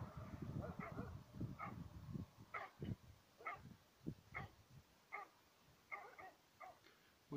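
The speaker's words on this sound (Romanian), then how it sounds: "o echipă adevărată de câini n-ar trebui să se încaire." Sheepdogs at a mountain sheepfold bark, yip and snarl in a noisy squabble, several dogs overlapping in irregular bursts at moderate distance, with growls and whimpers between sharp barks.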